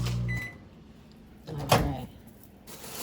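A microwave oven runs with a steady hum that stops, followed by a click and the clunk of its door opening, all close by in a home setting.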